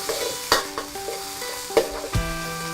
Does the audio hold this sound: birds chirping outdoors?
no